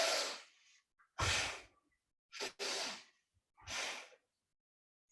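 Slow breathing exercise with deep breaths drawn in and let out in several long airy gusts separated by silent pauses, close to the listener and fairly quiet, with no talk.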